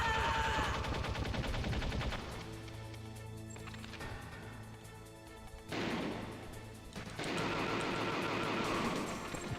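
Gunfire in Metal Gear Solid: rapid bursts of shots at the start and again in the final seconds, with a quieter stretch of game sound and music between them.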